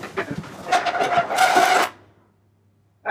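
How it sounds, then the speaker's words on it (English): A shutter being pulled shut, heard as a rattling mechanical clatter for nearly two seconds, followed by near silence and then a brief new noise at the end. "Shall we shut the shutter?"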